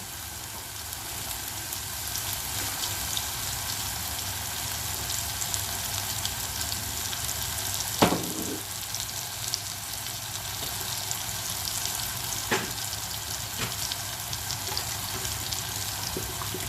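Potatoes for dum aloo fry in a heavy-bottomed pot, giving a soft, steady sizzle with a few sharp pops and clicks, heard fairly quietly and without talk.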